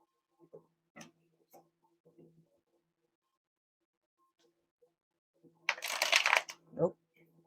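A few soft flicks of tarot cards, then a burst of riffling as the deck is shuffled, followed by a brief murmur; mostly quiet otherwise.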